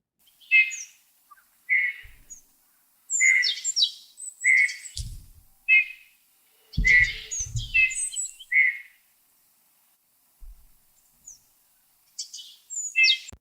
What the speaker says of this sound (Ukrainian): послухайте, як співає снігур